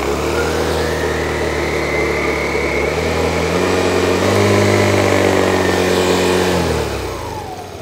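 A 2025 Yamaha Aerox Alpha scooter engine running close by with its electronically controlled Y-Shift CVT engaged, a steady mid-pitched drone that steps up in pitch as revs rise, then eases off near the end.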